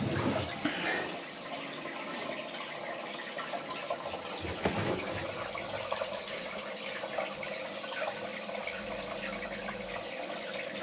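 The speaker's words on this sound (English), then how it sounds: "The toilet is filling up" A space-saving toilet cistern refills with water, a low steady rushing and trickling from the fill valve that carries on quietly throughout, with a few faint knocks.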